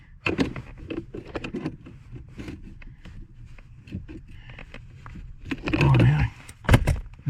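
An adjustable wrench works a nut on a Mazda brake light switch, giving close metallic clicks, scrapes and rattles in short irregular bursts with a louder clatter near the end.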